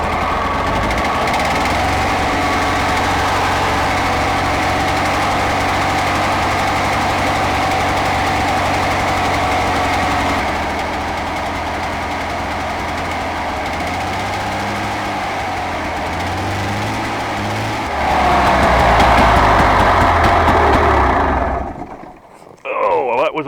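A 1991 snowmobile engine runs loud and close with a steady, busy idle, rising briefly in a rev near the end before cutting out abruptly.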